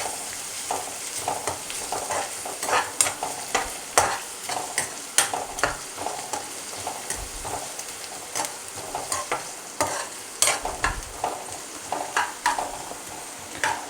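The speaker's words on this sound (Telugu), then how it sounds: "కొంచెం ఉల్లిపాయ కొద్దిగా వేగాలి." Onions fry in a pan for dhaba-style egg keema while a spatula stirs them in repeated scraping strokes over a constant sizzle, close and fairly loud, with no speech.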